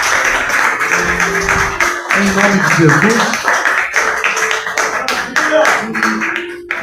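A church congregation claps in praise of the Lord during a Portuguese-language evening service, a steady patter of many hands running under a preacher's amplified voice.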